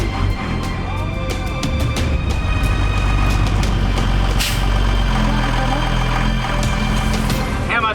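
Unimog truck engine labouring as it climbs a steep, near-vertical gully cliff on a 4WD track: a loud, steady low diesel drone with clanks and rattles over it, and voices in the background.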